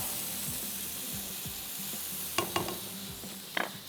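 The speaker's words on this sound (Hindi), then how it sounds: "इसमें ऐड कर देते हैं लहसुन और अदरक का पेस्ट। थोड़ा सा इसमें इसको मिक्स करती हूँ" Garlic and ginger paste stirred in a pan over a low, steady sizzle, with soft scraping strokes and a few sharp clinks of a spoon against the pan.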